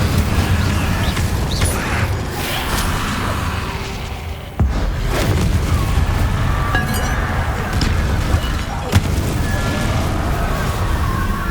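A fire spell is cast in the Hogwarts Legacy game amid a busy battle mix of clinking, glassy impacts, bursts and thuds, loud and dense, with a couple of sharp hits standing out over a rumbling low end.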